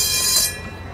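A model train runs through a miniature city display with a model of Berlin. It makes a brief, close rushing and squealing pass that is loud for half a second, then fades to a low rumble.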